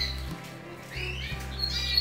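Bird chicks squawking in a nest, a continuous close, raspy begging call with a steady low hum underneath and no talking.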